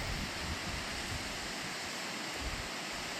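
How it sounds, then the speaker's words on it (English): Small waterfall in a canyon, a steady broadband rush of falling water, close and continuous with no breaks, and no talking. "A little bit of a waterfall there"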